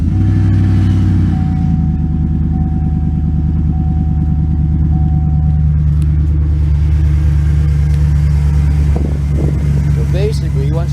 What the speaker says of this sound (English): I need to do another cold start of my truck because we all know what it sounds like